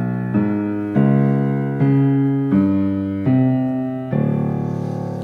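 Six piano notes spelling a name in musical letters from Lu Pei's Elegy, played one after another at a slow, even pace, each struck clearly and left ringing into the next, with no voice.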